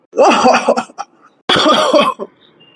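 Two harsh coughing fits in quick succession, close and loud, each a burst of several rough coughs separated by a short pause.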